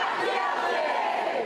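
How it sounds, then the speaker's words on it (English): A large crowd of Karen Read supporters shouting and chanting together outside a status hearing, a continuous dense roar of many voices at steady loudness. "more than 150 people supporting Karen Reid. This crowd is here for Karen"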